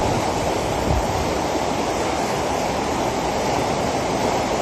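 A swollen stream overflowing with floodwater near a bridge and a teahouse, a loud, unbroken roar of rushing water filling the whole clip at close range.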